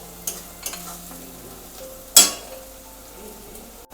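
Onions frying with ginger garlic paste in a pan make a quiet hiss, broken by a few soft scrapes and one sharp, brief scrape of a spoon against the pan.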